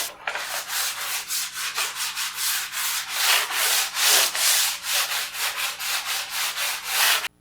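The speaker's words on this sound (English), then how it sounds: "What you're going to do between coats is sand with that light grit sandpaper" Sandpaper with a light grit rubs across wood between finish coats in steady back-and-forth strokes, a close, rhythmic scratchy rasp repeating about twice per second.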